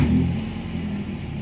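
A Suzuki engine running at idle after repair work on an unstable, dropping RPM fault, a steady low rumble right after start-up, close and fairly loud with no talk.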